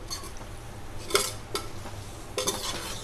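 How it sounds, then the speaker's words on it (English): Chole masala being stirred with a cup of milk in a pan over high flame: a steady sizzle with a few sharp scraping clinks of the spoon against the pan, close and fairly loud. "Mix all of them well."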